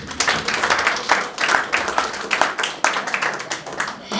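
A church audience claps steadily at a Hindi-language sermon, a brisk, fairly close burst of applause with uneven hand claps running throughout.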